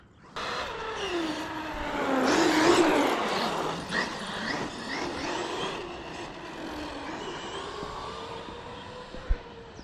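A Traxxas E-Revo 2.0 RC car on an off-road speed run whines loudly as it accelerates, the motor pitch rising and falling as it passes, then fades with a sharp knock near the end.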